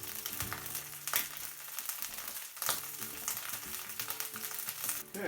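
Brood X cicadas frying in a pan, a continuous bright crackling sizzle with occasional scrapes and pops, fairly faint and even, with no talking.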